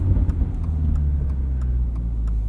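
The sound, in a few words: 2022 Subaru BRZ with MRT axle-back exhaust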